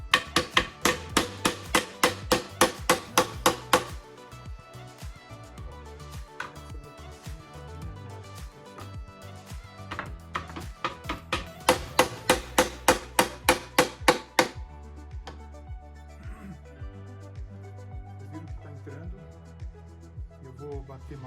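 A small wooden block is struck with a hammer to seat the parts of a star-pattern chair. Two bursts of rapid, loud, evenly spaced blows stand out, with quieter handling noises and occasional taps between them.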